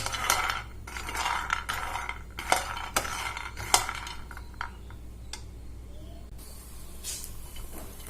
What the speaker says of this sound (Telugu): పల్లీని లో ఫ్లేమ్లో బాగా వేయించుకోవాలి